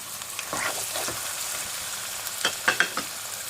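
Chicken drops into a hot pan for a green chicken curry and fries with a soft, continuous sizzle, broken by a few sharp scraping and stirring knocks near the end, close up with no speech.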